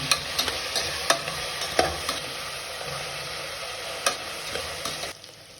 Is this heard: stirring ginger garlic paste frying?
yes